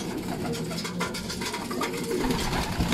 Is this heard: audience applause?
no